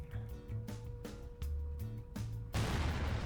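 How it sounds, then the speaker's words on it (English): 500-pound bombs explode in the video game Garry's Mod, a series of muffled booms and crackling hits at an irregular rhythm, ending in a loud rushing blast, with no talk. "Okay, we have the small 500-pound bombs going off."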